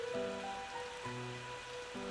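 In the Plants vs. Zombies video game, seeds rain down with a soft, quiet pattering effect while gentle game music plays underneath.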